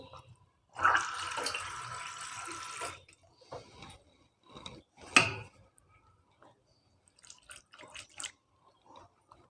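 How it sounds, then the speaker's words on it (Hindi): Water poured into dhokla batter in a home kitchen, a broad splashy pour lasting about two seconds, followed by a short splash and scattered soft clinks and drips, fairly close with no talk. "पानी डाल के"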